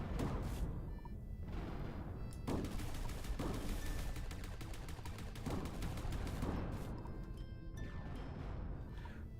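Rapid bursts of gunfire and repeated explosions from a video game with auto-targeting weapons, a dense, continuous barrage with heavy booms recurring every second or two.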